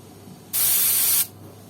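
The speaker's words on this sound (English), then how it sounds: "Today I'm gonna use my airbrush." A single short burst of fine hissing airbrush paint spray lasting under a second, close and clear, with quiet before and after.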